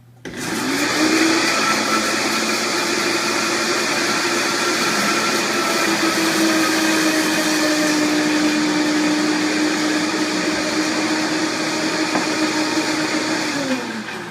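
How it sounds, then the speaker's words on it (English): A blender runs at slow speed making hollandaise sauce for eggs Benedict, with hot butter slowly added; a steady, loud motor whir and hum that continues alone for about fourteen seconds with a slight shift in pitch partway through. "we're going to start by having a slow blender and very slowly adding the hot to that"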